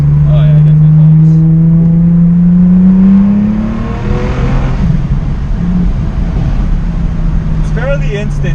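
A B5 Audi S4 accelerating hard in second gear, engine note rising steadily in pitch and then dropping at the shift, loud from inside the car with a voice heard over it near the end.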